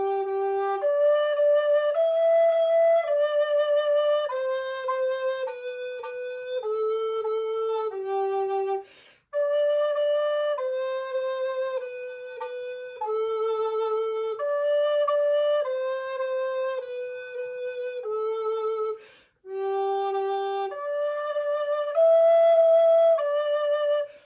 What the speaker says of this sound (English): Listen to the recorder, the alto recorder.